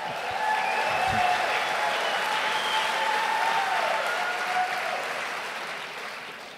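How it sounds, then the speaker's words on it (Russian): Applause from a church congregation during a service, a dense, steady wash of clapping that fills the hall for several seconds and then slowly tapers off. "You people love to clap."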